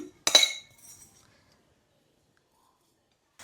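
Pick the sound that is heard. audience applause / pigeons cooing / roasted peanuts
roasted peanuts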